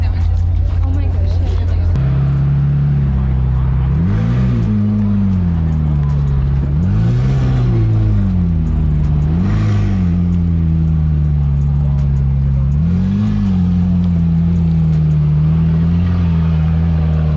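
A wrapped Ferrari Monza SP2 engine idles low, then blips through several sharp revs, each rising and falling. The engine sounds close and loud and stays continuous throughout, with a voice talking over it.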